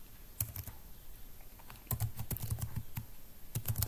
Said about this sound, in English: So I am gonna type administrator